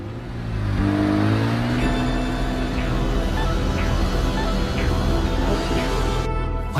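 Mazda RX-7 FD engine accelerates in an anime street race, a loud, close, rising drone that climbs in pitch, then holds a steady roar with faint rhythmic whirs.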